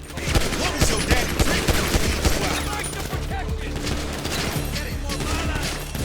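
Rapid automatic gunfire fills a firefight in the video game GTA V, with dense overlapping bursts of shots running continuously and loud throughout, and background voices faintly present.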